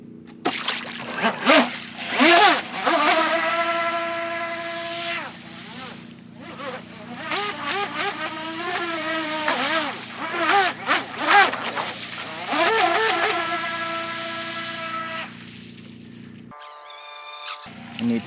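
An M-Jet Supersprint RC jetboat running on a 3S LiPo, its high whining motor rising and falling in pitch as it speeds across water, fairly close, then briefly cutting out near the end.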